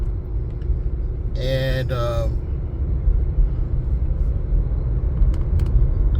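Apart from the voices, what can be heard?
2017 Ford Fiesta car driving, road and engine noise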